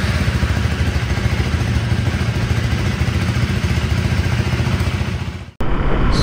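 A KTM Duke 390 motorcycle's engine runs in a cold start, a loud, steady, close-up mechanical idle. It cuts off abruptly near the end before a brief different noise, with no talking.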